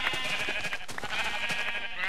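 Sheep in Minecraft bleat repeatedly in quick, overlapping calls over a steady bright background of game sound, fairly loud and close with no talking.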